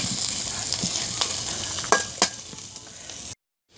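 Dried fish fries in hot oil with turmeric, a close, steady sizzle and crackle with a few sharp pops and spatula scrapes, ending abruptly in silence.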